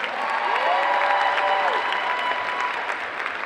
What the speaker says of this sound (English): Please get a round of applause for them.